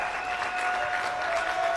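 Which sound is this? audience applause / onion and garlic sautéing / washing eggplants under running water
audience applause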